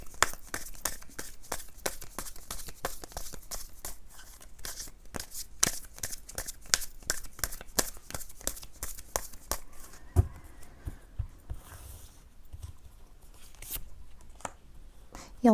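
Tarot cards shuffled and drawn from a deck, giving a rapid run of crisp papery flicks and riffles close by, followed by a few softer taps and rustles as the shuffling stops.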